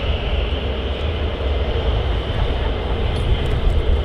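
A fighter jet taxiing at RAF Lakenheath, a loud, continuous engine rumble and whine that holds steady without voices over it.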